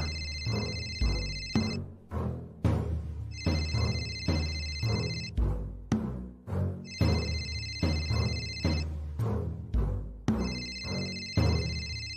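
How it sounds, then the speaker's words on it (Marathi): A phone ringtone plays loud and close, a bright musical phrase looping about four times with short pauses between rings. "मी नाही उचलला तरी ह्यांना करतील आबा फोन"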